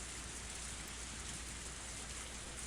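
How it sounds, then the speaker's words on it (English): Heavy rain pours down in a steady, dense hiss, faint and constant with no breaks or distinct drops standing out. "The rain was still pretty intense."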